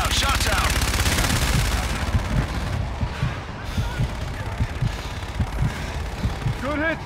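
Rapid automatic gunfire in the Call of Duty: Infinite Warfare campaign, a loud burst of dense shots at the start easing into a steady run of repeated bangs and rumble, with brief radio voices heard over it.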